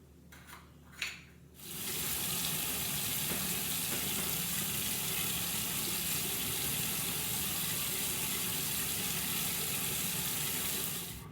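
Tap water running steadily in a sink while someone rinses a facial peel polish off their face, an even, close hiss that starts abruptly after a brief quiet moment and continues without talk.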